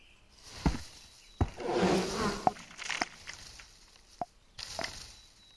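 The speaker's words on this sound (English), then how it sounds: "I hear some bees." Buzzing bees in the video game Ghost Giant, a faint insect drone joined by a few sharp clicks and taps while the player moves about.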